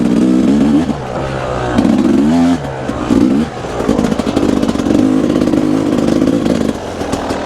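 A Yamaha YZ250 two-stroke dirt bike with a freshly rebuilt top end revs hard in repeated throttle blips, loud and close, dropping to a rattly idle between bursts.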